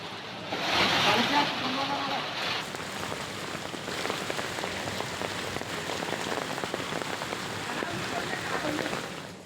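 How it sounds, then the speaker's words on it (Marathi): Hail falling with heavy rain during a sudden unseasonal storm in Dharwad, Karnataka, a steady dense patter of drops and pellets with a louder burst near the start, continuous throughout. "काही वेळातच गारांचा पाऊस बरसू लागला"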